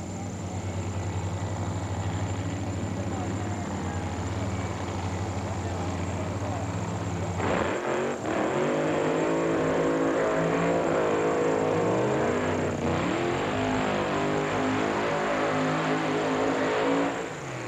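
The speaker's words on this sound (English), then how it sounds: "With a long burnout is Frank Manzo" An alcohol funny car, Frank Manzo's, does a long burnout at the 1995 NHRA US Nationals at Indianapolis Raceway Park, a loud sustained engine roar that surges harshly partway through under a commentator's voice.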